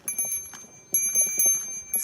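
Small bell of the kind hung on children's backpacks on a walk in Japan jingles in short bursts and clusters, close and fairly clear, ringing lightly rather than strongly, with no voices.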